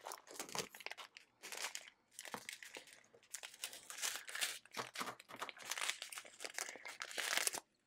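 Scissors snip open plastic bags of diamond painting drills, with steady crinkling, rustling and crunching of thin plastic close by, in repeated bursts with short pauses between.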